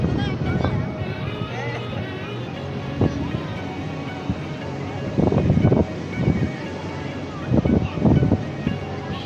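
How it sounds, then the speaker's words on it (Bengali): Big sea waves and wind on the beach at Cox's Bazar: a constant windy roar buffets the microphone, with heavier low surges of breaking surf rolling in several times, close and loud, with no talking. "খুব বড় বড় ঢেউ"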